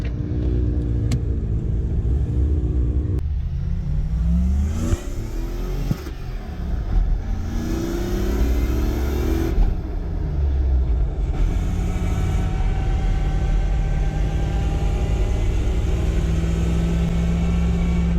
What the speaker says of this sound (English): Doesn't idle that smooth, eh?